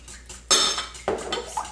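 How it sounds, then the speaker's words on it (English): A whisk beats eggs and melted butter in a bowl, giving a few sharp clinks and clatters against the dish, close and loud with no talking. "So keep whisking and put in your butter."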